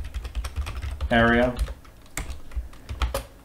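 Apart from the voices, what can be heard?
typing on a computer keyboard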